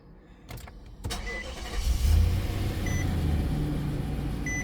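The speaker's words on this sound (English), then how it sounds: "Foot on the brake." An Infiniti QX80 with a defective smart charging system cranks and fires up, two sharp clicks followed by the engine catching and settling into a steady idle, with faint chimes beeping in the cabin.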